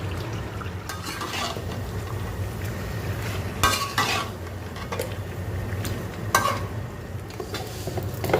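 Rice frying in a pan for biryani: a steady close sizzle runs throughout, with a few louder scraping stirs of a utensil against the pan.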